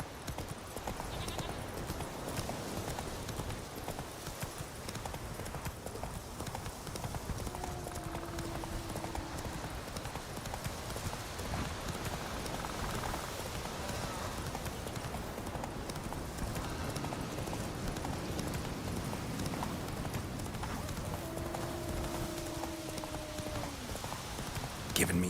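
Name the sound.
horse hooves clip-clopping while riding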